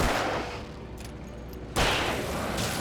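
Enemy gunfire in Alan Wake: a loud blast opens the moment, and after a short lull a second sharp shot bursts out, both harsh and close amid ambient game noise.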